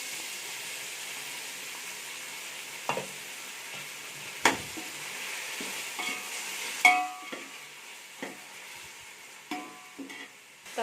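Tomatoes with ginger garlic paste sautéing in a pan for mushroom biryani, a soft steady sizzle close by, broken by occasional scrapes and knocks of a spoon stirring, with no talk.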